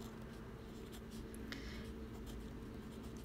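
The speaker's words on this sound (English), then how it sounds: "So I'm going to write that out." Pen or pencil writing out a decimal multiplication problem, 4.8 times 7.2, producing faint scratchy strokes and a light tap over a low steady hum in a quiet room.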